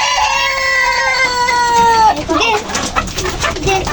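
A rooster on a rooftop poultry farm crows loud and close in a sustained call, then breaks into a few clucks.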